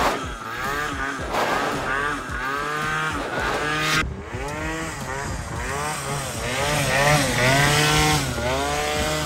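Small moped engine revving hard and rising and falling in pitch as the rider pops a kneeling wheelie, loud and close with repeated throttle surges throughout.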